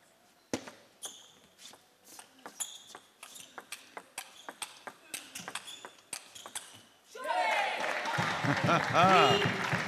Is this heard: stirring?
no